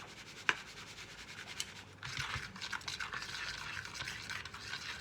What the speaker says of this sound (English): I wanna grab a fork and just mix it together